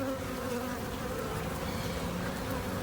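Honeybees buzzing in a steady, continuous drone with no pauses, close and fairly full, carrying on alone without any voices.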